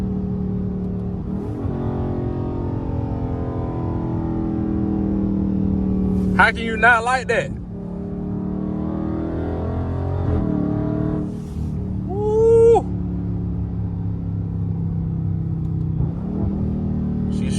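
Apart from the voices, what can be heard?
392 Scat Pack exhaust revving while driving in sport mode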